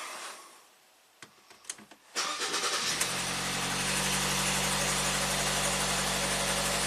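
A Ford EcoBoost engine with recurring P0106 and P2196 faults starts up: a few clicks and a short crank, then it catches and settles into a loud, steady idle that runs to the end.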